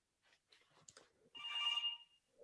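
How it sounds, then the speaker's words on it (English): A telephone rings once with a bright, sustained bell tone that follows some quiet movement, heard at a moderate distance in an indoor scene. "The phone starts to ring"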